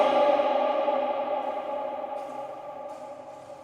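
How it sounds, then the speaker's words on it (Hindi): A voice rings out in an empty, abandoned building, its long reverberant tail fading slowly across the hall, fairly loud at first and dying away with no other sounds. "अपनी ही आवाज गूंज रही है गाइस।"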